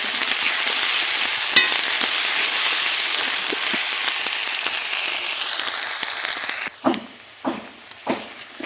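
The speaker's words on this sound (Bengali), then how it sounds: "দিয়ে দিব আদা বাটা। এগুলো কিছু সময় ভেজে নিতে হবে।" Ginger paste, onion and garlic sizzle and hiss steadily in a hot pan for a mutton curry, a dense broad frying crackle; near the end the sizzle drops and a few short stirring scrapes and clatters follow.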